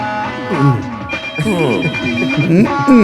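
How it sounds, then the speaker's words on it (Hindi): A telephone rings with a repeating electronic tone while people talk loudly over it nearby. "अरे देखो, फोन बज रहा हे है।"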